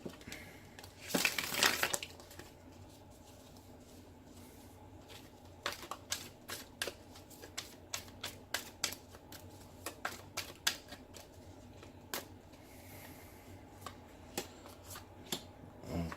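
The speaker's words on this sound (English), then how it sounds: "I'm also going to lay all the cards out as well for time" Tarot cards shuffled in a quick riffle, then laid out one by one onto a surface in a string of soft slaps and flicks, close and quiet with no talk.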